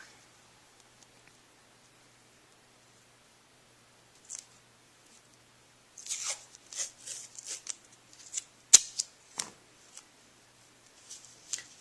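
Tape is torn and pressed onto a compression bandage wrapped on an arm, a quiet start then a cluster of faint, close crinkling and ripping bursts with one sharp snap, no voices.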